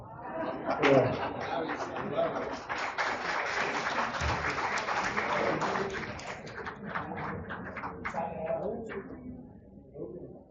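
Conference audience at the FAERA-UCA Jornadas applauding steadily throughout, with a swell of clapping and voices chattering and laughing underneath before the applause tapers off.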